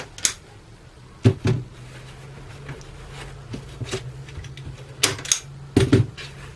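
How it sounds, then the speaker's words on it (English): A staple gun fires into canvas stretched over a wooden stretcher frame, making a few sharp, isolated snaps spaced irregularly, with quieter handling noises between them. "this side, I'll pull down and staple."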